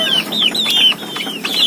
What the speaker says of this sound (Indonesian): dan juga agak berisik, petok petok petok seperti itu.